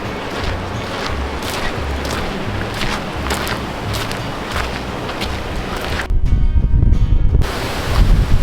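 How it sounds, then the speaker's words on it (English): Strong wind sweeps across a hilltop lookout tower beside a huge wind turbine, a dense roar with rough microphone buffeting that surges heavily near the end. "the wind was a bit strong, wasn't it?"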